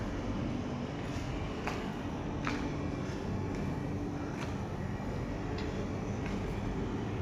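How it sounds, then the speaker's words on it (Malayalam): Cabin noise fills an airliner climbing after takeoff from Kannur International Airport: a steady, loud, broadband engine and air roar that stays constant throughout, with a few faint clicks rising above it. "പൊന്തി ഫ്ലൈറ്റ് അങ്ങനെ പൊന്തി."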